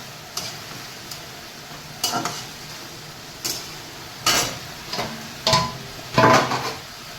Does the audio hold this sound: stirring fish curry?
yes